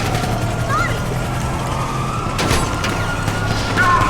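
A police siren in GTA 5 wails steadily in the background, rising and falling, with a continuous low engine hum underneath.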